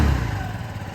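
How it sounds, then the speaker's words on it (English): A 2024 Keeway Fact 125 twist-and-go scooter revs briefly at close range, its exhaust giving a short, mid-pitched engine rumble with no talking. "just so you can hear the exhaust."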